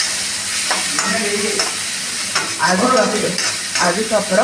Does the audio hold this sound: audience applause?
no